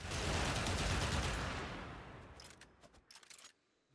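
The Pyrana Prime gun in the video game Warframe fires a dense, loud burst of rapid shots, rolling together and then tapering into a few scattered, fainter cracks before stopping.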